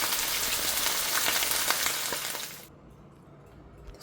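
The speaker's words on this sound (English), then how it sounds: "Now I'm going to let that sizzle." Steak sizzling in a frying pan, a loud steady crackling hiss for about two and a half seconds before it drops to a quieter low sizzle, with no voices.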